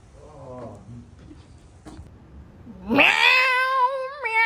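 A cat meows loudly and close, a long drawn-out rising wail in the second half after quieter background noise and a faint voice early on.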